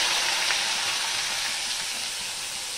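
Chopped tomato dropped into hot oil tempered with garam masala, hissing in a steady, loud, close sizzle that fades slightly over the few seconds, with no talking.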